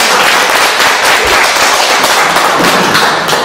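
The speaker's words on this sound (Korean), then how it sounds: "힘찬 박수로 좀 맞춰" Dense, loud audience applause at a workshop on a cyber-surveillance ban law, continuous sharp clapping with no talk over it.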